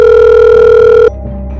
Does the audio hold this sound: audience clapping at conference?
no